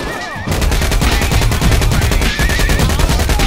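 Rapid automatic gunfire from a hacked-in gun in Saints Row, a loud continuous stream of shots that starts after a short quiet moment and keeps on with only one brief dip.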